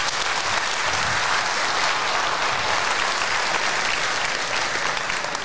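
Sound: audience applause for Patrick Govaerts

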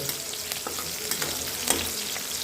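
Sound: green chilies crackling in hot oil for fasting khichdi

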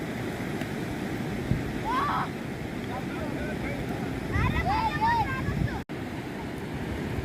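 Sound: ocean waves on Kihim beach

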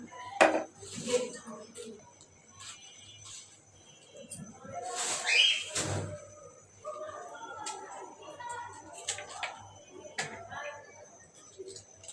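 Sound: cutting vegetables: cauliflower and radish

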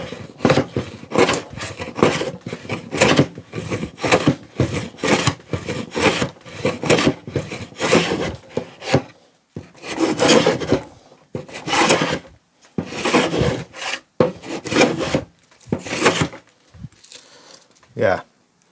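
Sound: Draper wood smoothing plane shaving wood

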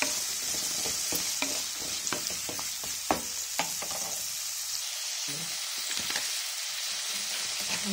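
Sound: ridge gourd pieces frying in pan

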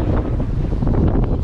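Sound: wind and rain on a fishing boat at sea

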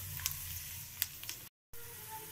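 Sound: garlic sizzling in hot oil for tadka

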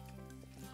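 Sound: basil leaves sizzling while deep frying

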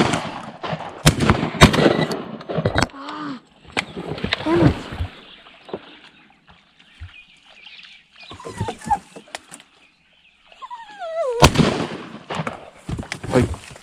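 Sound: shotgun fired at a duck

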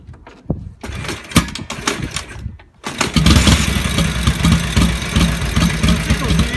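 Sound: Harley-Davidson WLA motorcycle engine starting and idling

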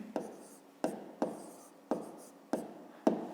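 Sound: writing down a maths answer

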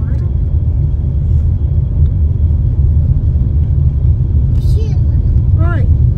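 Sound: car being driven to park

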